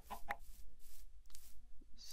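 Chicken clucks from a video game, a few short faint calls spread over two seconds with no talk over them.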